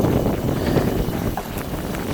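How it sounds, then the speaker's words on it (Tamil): Loud, steady wind buffeting the microphone on a seashore, a dense low roar with no talking. "காற்று சத்தம் அதிகமாக இருந்தால் பார்த்துக்கோங்க"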